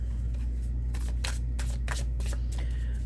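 Astrology oracle cards being shuffled, a run of soft papery riffles and slaps in quick bursts over a steady low hum, close by with no talking.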